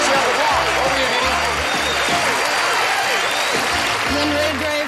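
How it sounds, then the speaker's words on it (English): A game show studio audience gives a round of applause, a dense, loud wash of clapping heard with music and voices over it. "Last round of applause."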